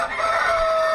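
A single loud rooster crow rings out close by, a sustained drawn-out call with no talking around it.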